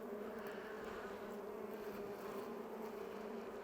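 Agitated honeybees, mostly old bees, hum in a steady, even drone from an opened hive with few young bees, faint and continuous with no voices.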